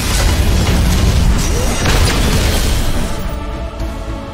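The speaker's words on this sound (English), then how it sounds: "Your team has destroyed a right enemy tower" An enemy tower crumbles in Smite with a loud, sustained booming crash and rumbling debris. The collapse fills most of the clip, then fades near the end.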